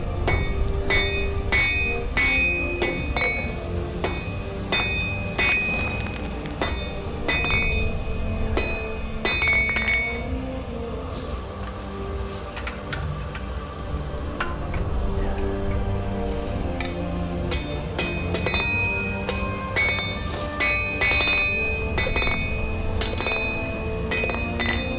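A blacksmith forge-welds folded metal, striking it with a hammer in fast, ringing metallic blows that come in loud bursts, ease into a quieter stretch midway, then pick up again.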